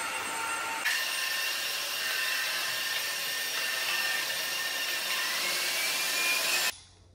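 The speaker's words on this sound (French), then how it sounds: "Et après, je passe cet aspirateur." An Ultenic AC1 Elite wet-dry vacuum cleaner runs steadily on a floor, with a loud, continuous whirring motor and brush hum that holds for about six seconds before cutting off.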